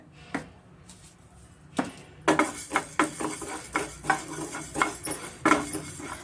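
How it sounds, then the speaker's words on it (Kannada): Curry leaves and spices dry-roast in a pan for a kashaya powder, heard as a series of close scraping and clinking strokes of a spoon against the pan, rhythmic and moderately loud with no talk. "ಮೊದಲಿಗೆ ಒಂದು ಪ್ಯಾನ್ ಇಟ್ಕೊಂಡು ನಾವೆಲ್ಲ ಬಿಸಿ ಮಾಡ್ಕೊಂಡು ಹುರಿದು ಹುರ್ಕೊಬೇಕಾಗುತ್ತೆ"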